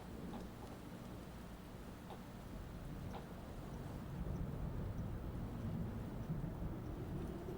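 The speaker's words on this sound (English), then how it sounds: "Thunder. I've never been scared of thunder." Thunder in a horror animation: a deep rolling rumble builds and swells under steady rain, filling the scene with low, continuous, storm-like noise and faint scattered drops.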